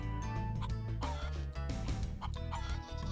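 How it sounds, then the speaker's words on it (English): Chickens clucking in the PlayStation game Spyro the Dragon, quiet repeated bird calls layered over steady game music with no talk. "Or chickens."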